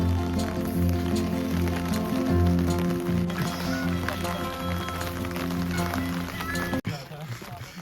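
Heavy rain pours steadily onto surfaces at Laitlum Canyon in Meghalaya, a dense hiss with low rumbling underneath and scattered clatter, ending with a sudden thump.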